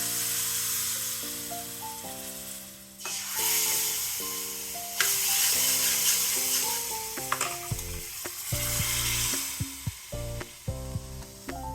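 Mustard seeds, cumin, asafoetida, turmeric and curry leaves sizzle in a spoon of hot ghee for tempering, a steady crackling fry with stirring throughout, close and fairly loud with no talking.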